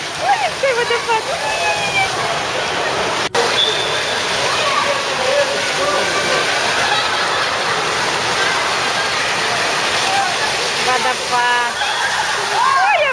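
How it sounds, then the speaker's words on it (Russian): Water park waterfall splashes and pours continuously in a steady loud rush, with excited voices and a sharp click partway through. "Водопад! Ой, обрызгали!"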